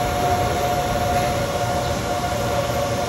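Seven 60 kW grid-tied solar PV inverters at an industrial installation site give off a loud, steady electrical hum with a constant tonal drone and broadband noise, unchanging throughout.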